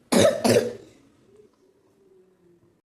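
A person coughs twice in quick succession, loud and close, followed by a faint low murmur fading out.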